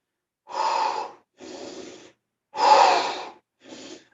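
Heavy, forceful exhales during a strength training workout: four close breath bursts in an uneven rhythm, the third the loudest and the last short, with no talking.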